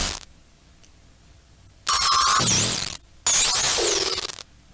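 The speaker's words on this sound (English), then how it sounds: "I'm just doing some bit reduction, basically 4 bits, which is making it a lot crunchier" A resampled synth sound crushed to 4-bit, harsh and crunchy, plays in two loud bursts of gliding, warbling high tones with a brief gap between them, after a quiet start.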